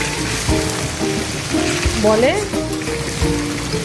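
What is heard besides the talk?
fish frying in light oil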